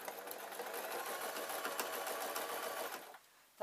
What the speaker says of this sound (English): I'm just going to top stitch the handle